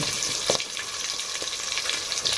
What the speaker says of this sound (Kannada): ಉಳ್ಳಾಗಡ್ಡಿ ಚಲೋ ಫ್ರೈ ಮಾಡ್ಕೊಂಡು ಸ್ವಲ್ಪ ಕಲರ್ ಬರೋವರೆಗೆ